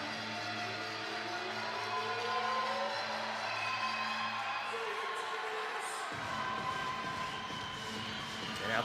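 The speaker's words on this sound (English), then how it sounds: "Outstanding crowd here inside the beautiful Kreger Center" A crowd cheers and roars inside the Kreger Center, a 2,500-seat arena, at a women's volleyball championship. The crowd noise is a sustained din throughout, with a steady tone that cuts off partway through.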